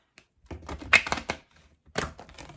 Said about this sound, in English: sometimes the cards just don't want to shuffle